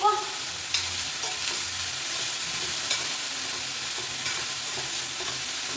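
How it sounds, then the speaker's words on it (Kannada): Bitter gourd sizzling steadily in hot oil in a pan, a dense continuous frying hiss with a few light stirring scrapes and clicks, close and fairly loud, with no talk. "ಎಣ್ಣೆಯಲ್ಲಿ ಸ್ವಲ್ಪ ಫ್ರೈ ಆದರೆ ಚೆನ್ನಾಗಿರುತ್ತೆ ಹಾಗಲಕಾಯಿ"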